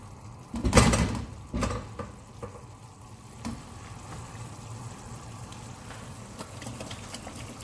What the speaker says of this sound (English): Keep it on a high heat to let it reduce a bit.